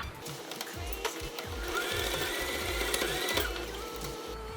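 A sewing machine stitches a fabric hem, its needle chattering in a fast, steady mechanical rhythm with brief pauses and restarts, close and clear, with no talking.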